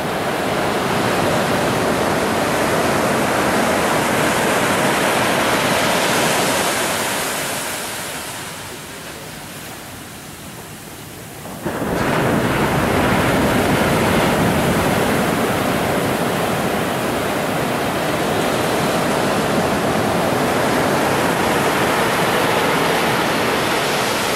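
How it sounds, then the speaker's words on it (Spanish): Ocean surf roars as broadband noise at dawn at Cabo San Lucas, loud and close, easing briefly in the middle before another wave crashes in and the rush of water resumes. "Me gusta mucho cómo se oye el ruido de las olas, la braveza del mar"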